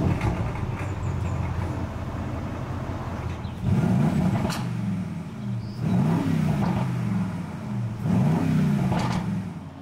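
An Aston Martin DBX SUV with a 4-litre V8 revs its exhaust, giving a deep, steady idle rumble broken by three loud throttle blips that swell and fall back, heard close by with no talking.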